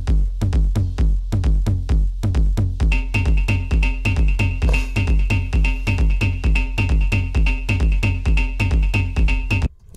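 Techno track in a rework, a relentless four-on-the-floor kick pulsing evenly throughout, joined by a sustained high synth tone after a few seconds, full and loud with no breakdown.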